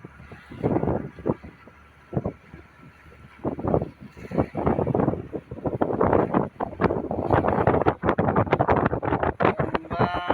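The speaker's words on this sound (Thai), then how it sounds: "เป็นลมอย่างแรงเลยเนะ" Strong wind at sea buffets the microphone in loud, irregular gusts that rise and fall, building into heavier, more continuous blasts toward the end, with no speech.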